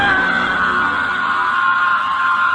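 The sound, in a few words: man screaming, horror story sound effect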